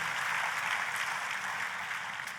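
Church congregation clapping during a worship service, a steady dense wash of applause filling the room from start to finish with no break.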